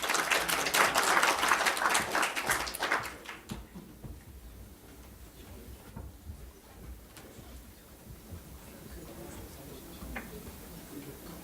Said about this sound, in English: So let's give a warm applause for Professor Li.